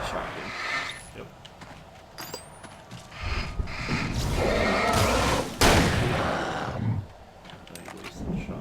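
Shotgun blasts in Alan Wake, a few sharp broadband bangs amid game noise, with one especially loud crack near the middle and people talking throughout.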